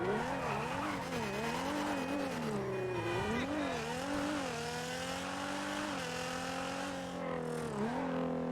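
A sports car engine in GTA V NoPixel roleplay drones steadily with a muffled, buzzy exhaust tone, its pitch rising and dipping as it revs between gears, with occasional tire squeal and no talk over it.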